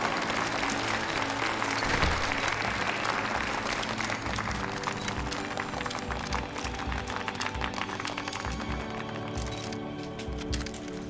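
A large audience at a new-energy corporate event breaks into sustained, dense applause that welcomes the company chairman onto the stage and carries on steadily from start to finish.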